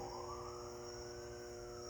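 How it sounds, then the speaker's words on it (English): A faint siren wails in the distance, its tone slowly rising over a steady low background hum. "I hear a siren."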